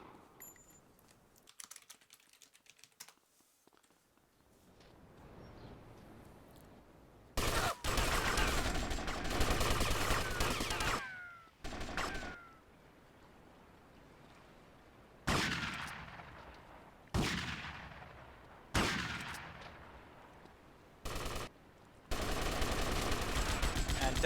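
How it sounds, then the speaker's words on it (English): Rifle fire in an online battle royale match comes in sharp, loud bursts separated by short gaps, volleys of shots repeating over a quieter background. "Daniel taking fire from rifles as he tries to zigzag"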